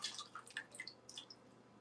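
Canned coconut milk poured from the can into a cooking pot on a stove, giving a soft, faint run of drips and splashes over about two seconds with no talking.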